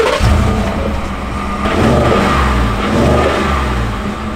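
A stock 5.0 V8 engine in a pickup truck revs and rumbles up close, a deep throaty growl rising and falling twice, with no talking.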